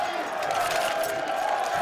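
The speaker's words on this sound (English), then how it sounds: "There's the crowd." At a CS:GO esports match, the ESL Pro League Season 3 Finals semifinal between Luminosity and NiP on Cobblestone, an arena crowd gives off a steady dense roar of cheering, with no voices standing out.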